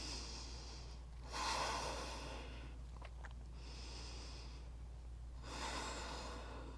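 Slow, deep breaths during a core-focused yoga session: two long, soft exhales about four seconds apart, with a brief snort-like sniff between, faint and close over a steady low hum.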